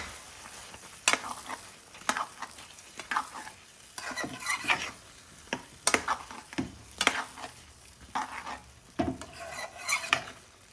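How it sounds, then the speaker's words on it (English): Potatoes cooking in a pan with onions, spices and tomato for a vegetarian curry, stirred with a utensil: repeated close scraping strokes against the pan over a soft continuous sizzle, with no talking. "Now I'm going to add these lovely potatoes."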